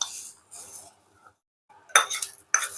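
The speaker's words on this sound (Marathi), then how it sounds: "हे कढई काढते, आता ठेवते आणि आपलं तवा ठेवते गरम व्हायला" A metal kadhai is lifted off a small village chulha and an iron tava is set down in its place. Sharp, close metallic clatters and scrapes come in short bursts, separated by a brief quiet gap.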